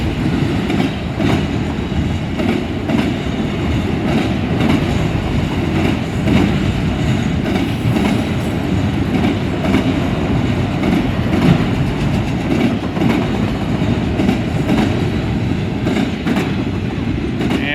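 A long freight train of auto rack cars loaded with SUVs rolls steadily past at close range in Deshler, heading east, a continuous rumbling roar with rhythmic clacking of wheels over rail joints throughout.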